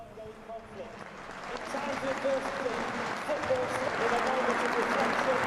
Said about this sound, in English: So this is the moment of pausing for thought for Ukraine, applause for Ukraine